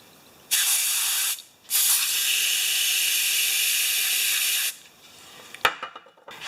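A clog-freed nozzle on an old Champion pump sprays fluid in a loud, steady hissing burst lasting about four seconds. A short break splits off the opening spurt, and faint handling clatter comes after.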